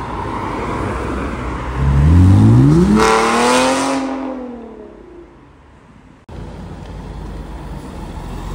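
A Porsche GT3 RS MR sports car, spotted on the street in Baden-Baden, roars past loudly up close, its engine note rising then fading away into background traffic.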